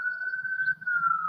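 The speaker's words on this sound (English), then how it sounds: "Sorry about the sirens." An emergency vehicle siren gives a steady, sustained high tone that barely wavers, fairly loud and clear for just over a second, with faint low background murmur beneath.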